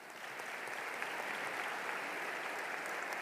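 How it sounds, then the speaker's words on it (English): A commencement audience applauds, a dense, even patter of many hands clapping at once for the full stretch with no voices. "Let's give them all a round of applause"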